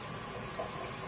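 Water running into a tub for a Burmese star tortoise's bath gives a steady, faint hiss of flowing water, unbroken over the short stretch.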